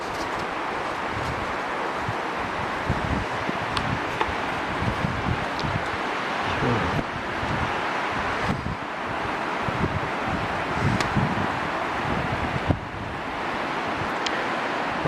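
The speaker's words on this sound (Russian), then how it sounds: "На улице ветрище дует." A strong March wind roars through a forest, a loud, steady rushing that swells and dips in gusts as the trees sway, with no voices.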